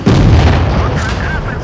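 A loud explosion booms in a tank video game, a heavy low rumbling blast that sets in sharply and lingers, with a voice briefly heard over its tail.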